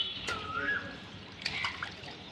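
Water trickles and splashes faintly at close range, with a couple of brief brighter splashes against a quiet background.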